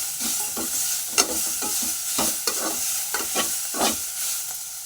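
Sliced onions sauté in hot oil with a handful of coriander and mint leaves, a steady sizzle broken by repeated stirring scrapes in an even rhythm, close up with no voices.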